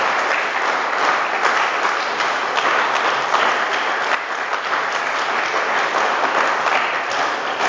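An audience claps and cheers steadily and loudly throughout, dense continuous applause from a crowd gathered to encourage an Arabic interpreter at a French-speaking Christian gathering.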